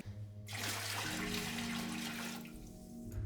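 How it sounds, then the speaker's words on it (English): Water pours steadily into a pressure cooker sitting on a kitchen hob, ready for sterilising grain spawn jars for mushroom cultivation. A continuous close rush of running water lasts nearly three seconds, then tapers off, with no talking. "So put it on your hob and then add your water in."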